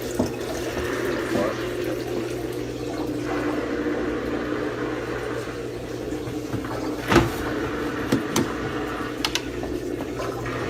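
A KUPPET compact twin tub portable mini washing machine draining water into a toilet, a steady rushing, gurgling flow that runs continuously throughout, with a few brief clunks and some talk over it.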